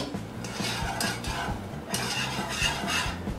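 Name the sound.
chocolate peanut butter cookie mixture boiling in a pot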